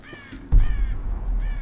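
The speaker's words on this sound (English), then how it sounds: "Hey, bird." A bird calls in the video game Tomb Raider, hoarse crow-like caws repeating several times, fairly loud over a low outdoor rumble that thumps in midway.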